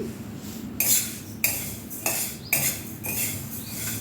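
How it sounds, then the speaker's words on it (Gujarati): A metal spoon scrapes and stirs black sesame seeds as they roast in a pan. Four or five distinct sweeping scrapes repeat at a steady pace over a low background noise. "તો સૌથી પહેલાં તલને સરસ શેકી લેવાના છે"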